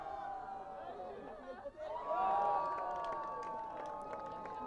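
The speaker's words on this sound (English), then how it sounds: "And a cheer from the Pirates as well" A crowd of spectators at an ultimate frisbee match, the Pirates team, cheers and shouts in a short swelling burst that rises, peaks and holds as a steady babble of voices.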